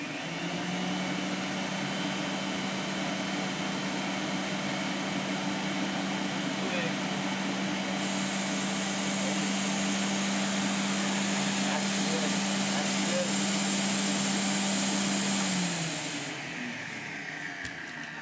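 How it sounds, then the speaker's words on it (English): A cylinder vacuum cleaner runs continuously with a steady whooshing hiss and low motor hum, rising in pitch midway before winding down near the end. "This is cylinder vacuum"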